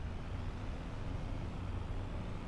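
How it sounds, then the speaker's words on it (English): A semi truck engine in Farming Simulator 25 drones steadily, a low, even rumble that holds at a constant level throughout with no talking over it. "Not a bad truck. Let's see what this sounds like."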